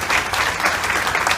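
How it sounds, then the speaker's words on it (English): Loud applause from a room of people at a Bridgeport police chief celebration, dense overlapping clapping throughout the short moment with no voices. "Let's give them a round of applause for all their support."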